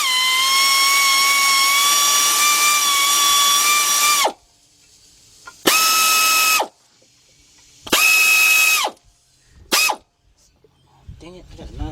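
Power ratchet tightening the water pump pulley bolts on a 1977 Buick LeSabre 5.7, a loud four-second whir followed by three shorter bursts, each cutting off sharply into near silence.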